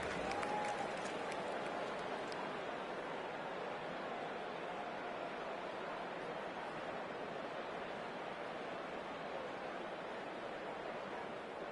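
A home crowd at a football video game gives a steady, dense roar of cheering and applause that holds at an even level throughout, with no talking over it.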